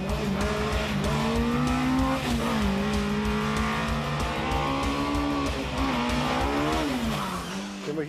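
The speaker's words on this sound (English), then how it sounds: "The short transmission ratios, typical in hill climbs, catapult the Simca to its limits in a jiffy" A Simca 1200S hill climb car with short gearing accelerates hard, its engine revving loud and close through rising and falling pitch sweeps as it climbs through the gears.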